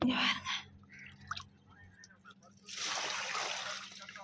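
Water splashes and pours onto jasmine plants in a steady gush during the second half, after a stretch of soft sounds and a brief voice.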